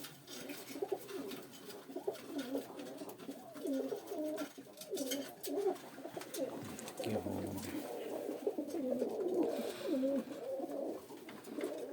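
Pigeons coo repeatedly in low, throaty murmurs in a loft, several birds overlapping nearby, with a soft voice audible in the background.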